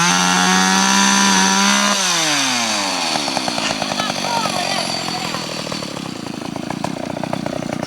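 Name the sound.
chainsaw cutting fallen tree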